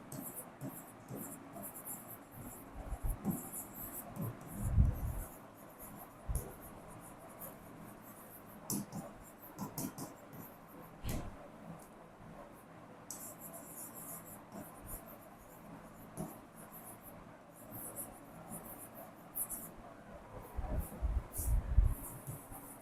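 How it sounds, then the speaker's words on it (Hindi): Handwriting an accounting example by hand: soft, scratchy pen strokes come in short irregular bursts with pauses, quiet and close, over a faint background hiss. "मैं पहले एग्जाम्पल लिख रही हूँ, फिर मैं करवाऊंगी।"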